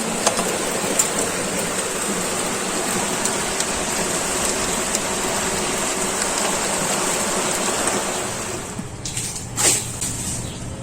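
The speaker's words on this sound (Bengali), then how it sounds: "দেখো কি জোরে বৃষ্টি হচ্ছে" Heavy rain falls hard and close, a loud continuous hiss of drops on surfaces that eases slightly near the end, where a brief clatter cuts through.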